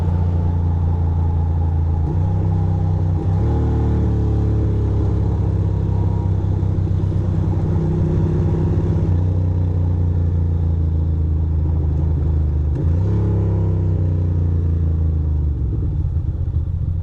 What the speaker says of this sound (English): Dirty Billy's pickup truck.